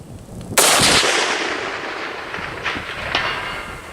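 A .300 Magnum rifle fires one sharp, loud crack with a long rolling outdoor echo, and a faint delayed impact rings back from a steel target at around 700 yards.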